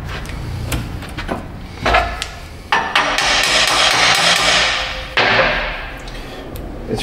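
A hammer strikes a metal basket frame for the front of a Yamaha Big Bear ATV, several sharp close taps and thuds with ringing metallic decay, spaced irregularly with pauses between.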